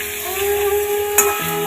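Ingredients fry in a pan just before spice paste goes in, a close, steady sizzle with a brief scrape of stirring near the end.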